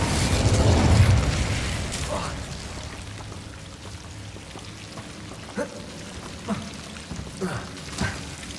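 A fire spell cast in the video game Hogwarts Legacy, with a loud whooshing, crackling burst at the start that fades into a softer ambient bed, followed by several short, sharp pops and flickers spaced across the rest of the clip.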